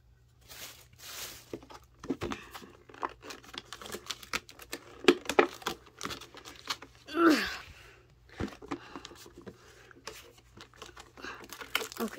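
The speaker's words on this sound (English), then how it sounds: "You need scissors to take this wrapper off of every Mini Brands collector's case." A plastic wrapper on a Mini Brands Series 4 collector's case crinkles and crackles close up in short, irregular bursts, broken by quiet gaps, with no one talking.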